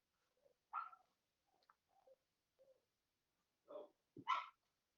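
A dog called Oakley gives a few short, scattered barks and yips, sharp and fairly close, with quiet gaps between the bursts.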